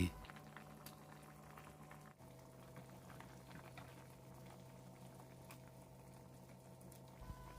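Water with chicken wings bubbling at a steady rolling boil over medium heat in a pot, a continuous soft gurgling patter close by with a faint low hum underneath.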